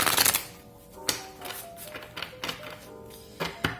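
Tarot cards being shuffled by hand close up: quick, soft riffling and tapping bursts with brief pauses between, faint and uneven in rhythm.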